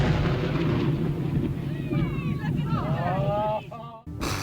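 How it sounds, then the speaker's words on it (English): Dead 45-foot, 8-ton whale blown up on an Oregon beach: a loud, sustained rumbling blast roar that fills the clip, with crowd voices and shouts layered over it, then a sudden drop near the end. "that's one big explosion"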